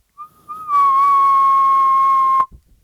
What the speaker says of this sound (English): I'm just recording my whistling here.